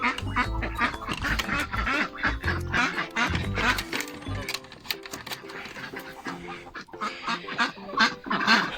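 Busy farmyard mix of loud quacking from several ducks, with chicken clucks and other fowl calls overlapping throughout, fairly close.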